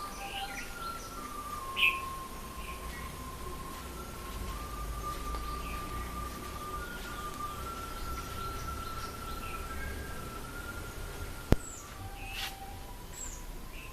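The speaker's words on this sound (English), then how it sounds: "the first bird I see in my home garden is a bulbul, and there's a bulbul somewhere here" Birdsong in a home garden in the early morning, with a bulbul among the singers: scattered chirps and short calls over a steady background of insect-like buzzing, moderately distant, with one sharp click near the end.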